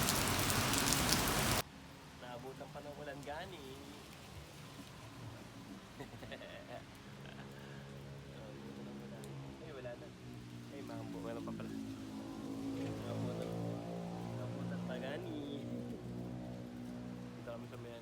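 Heavy rain drums steadily on a surface near Mindanao, a constant close patter that swells slightly, while people talk throughout.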